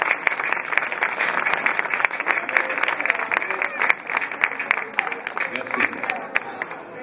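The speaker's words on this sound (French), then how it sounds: "on peut applaudir nos trompettistes, nos trois trompettistes" An outdoor crowd at a brass band concert in front of a chapel applauds the trumpet players after a piece, with steady, moderately distant clapping and some murmuring throughout.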